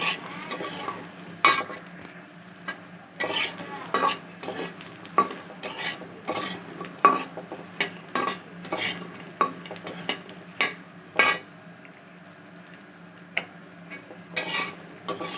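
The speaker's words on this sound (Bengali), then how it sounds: "এই যে বড়িগুলো এখন একটু লাল লাল করে ভেজে নিব।" Bori lentil dumplings fry in a pan with a soft sizzle underneath, broken by frequent sharp scrapes and clinks of a spatula stirring, irregular and close.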